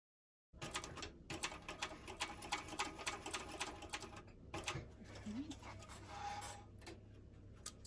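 A sewing machine runs a quarter-inch seam on a canvas bucket bag, its rapid needle ticking loud and close in bursts, then slowing with a low motor hum as stitching eases off.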